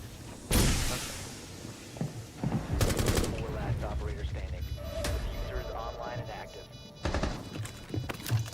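Gunfire in the video game Rainbow Six Siege, sharp loud shot bursts at intervals mixed with other game effects, while a player talks over it.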